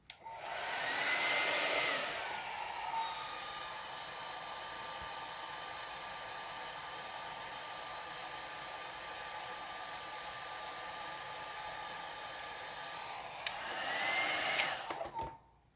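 A hair dryer blows steadily over an alcohol ink flower painting on a black background, a loud continuous whir with a steady tone that starts and stops, running alone without talk.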